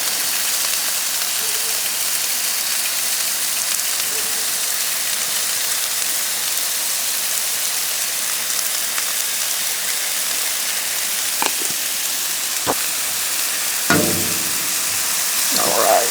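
Cheesesteak meat sizzles steadily on a Blackstone griddle, a loud continuous frying hiss with a few sharp scraping taps from a spatula near the end.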